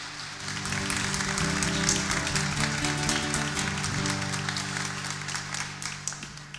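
A congregation applauds at a parish celebration and dinner concert in a church, a continuous wash of clapping over sustained musical tones. The applause swells, then thins out toward the end.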